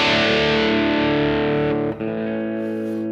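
Electric guitar chord at a medium crunch setting between clean and distortion, one sustained chord ringing alone with a slight break near the end before it carries on.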